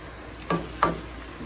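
Honey butter glazed chicken thighs hitting a hot pan as they are flipped, two quick sizzling bursts close up against a quiet background.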